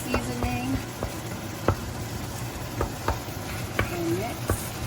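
Beef taco meat frying in a pan as seasoning is stirred through, with irregular utensil clicks and scrapes over a constant sizzle and faint background voices.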